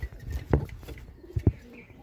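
Domestic Bombay-breed pigeons give a few soft, close coos, two clear low bursts standing out over quiet rustling, with no voices.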